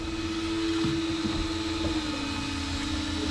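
A small battery-driven motor on a fishing boat whirs in a steady, constant hum under broadband background noise, with no talking.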